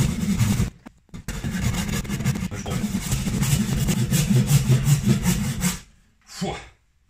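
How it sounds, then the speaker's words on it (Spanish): A wooden stick is sawn by hand for a motorcycle sissy bar, giving steady, loud back-and-forth rasping strokes up close that run for several seconds, pause briefly, and end with one last short stroke. "para que veáis cómo corto un palo"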